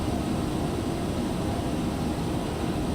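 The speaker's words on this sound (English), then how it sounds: "This plane is really loud" Loud, steady engine roar of a FlyJSim Boeing 727-200F cruising in a flight simulator, a dense, unbroken drone of jet noise that holds level throughout with no voices.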